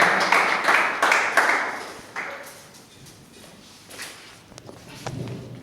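Audience applause in a hall at a March 8 event, dense clapping that is strongest over the first two seconds, then thins into scattered claps and fades toward quiet.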